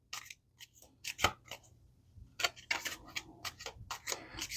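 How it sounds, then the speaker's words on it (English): Tarot cards being shuffled by hand, a series of crisp papery riffles and flicks in short irregular bursts, close and fairly quiet, with no talking. "Get these good and shuffled,"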